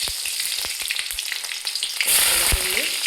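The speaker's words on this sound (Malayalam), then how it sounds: "വെളുത്തുള്ളി, ഇഞ്ചി, പച്ചമുളകും എല്ലാം കൂടി നമ്മളിന്ന് ഒന്ന് വഴറ്റാനായിട്ട് വെച്ചിട്ടുണ്ട്" Garlic, ginger and green chillies sauté in hot sesame oil with mustard seeds and fenugreek for a lime pickle, a steady close sizzle with light ladle scrapes that swells into louder frying partway through.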